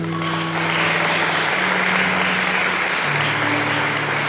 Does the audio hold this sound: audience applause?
yes